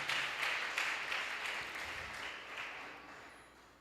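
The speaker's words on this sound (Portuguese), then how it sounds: "Vamos aplaudir o Rei Jesus por essa estratégia maravilhosa." A church congregation at a celebration service claps, a crowd of hands building and then gradually fading over a few seconds, moderately distant and with no speech over it.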